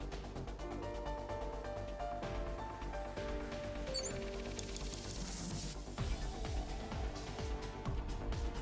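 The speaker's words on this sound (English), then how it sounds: "A warehouse door." A warehouse door opening in a detective video game, a continuous mechanical rattling and grinding with ratchet-like clicks and a few metallic clanks, growing rougher toward the end.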